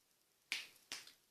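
Finger snaps used to train a dog named Jelly to sit, three crisp, close snaps spaced about half a second apart in an otherwise quiet room.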